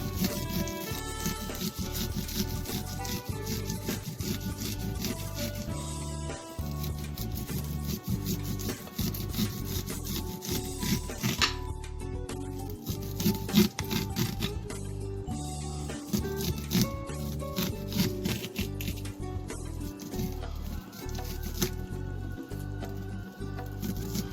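Corn kernels and juice being scraped off the cob for Southern fried corn, heard as a rapid, continuous rasping scrape close by with a rhythmic rubbing texture and brief pauses.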